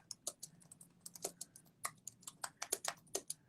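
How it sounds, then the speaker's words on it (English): Quiet, close typing on a computer keyboard: irregular bursts of crisp key clicks, some quick runs and short pauses, with no voices. "you can probably hear me typing on my keyboard"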